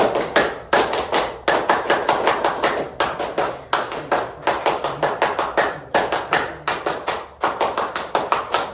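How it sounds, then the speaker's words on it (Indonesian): Pramuka scout clapping pattern performed by a classroom group, sharp rhythmic claps in quick bursts with short pauses, repeated through three rounds, close and loud. "Kita mulai tepuk pramuka 3 kali."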